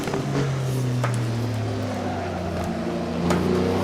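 Historic race car with a four-speed H-pattern gearbox in Assetto Corsa, the engine note dropping through a downshift for tight chicanes, a loud, close, continuous growl with a falling pitch and short blips.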